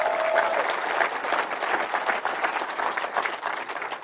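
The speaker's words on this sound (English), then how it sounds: "Give yourselves a round of applause." An audience of roughly thirty-five people claps a full round of applause, dense and steady with slight swells, close and loud throughout.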